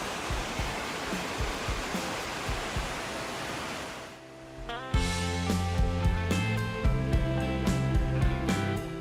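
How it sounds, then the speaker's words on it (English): Sweet Creek Falls waterfall roaring steadily with dense, broadband rushing water, loud and continuous for the first half, then quieter water beneath sharp nearby clicks and taps, with no talking. "The waterfall is spectacular."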